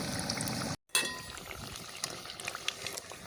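Banana flower vada frying in hot oil, a dense steady sizzle and bubbling, briefly cut off, then resuming with scattered crackles and pops.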